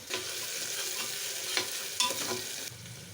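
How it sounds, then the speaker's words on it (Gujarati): Onion, tomatoes and chillies frying in a pan as a spoon stirs them, soft sizzling under a few sharper scraping strokes, close and fairly quiet with no talking. "ટમેટા, મરચાં એડ કરી દીધા છે। હવે તેને હલાવીશ।"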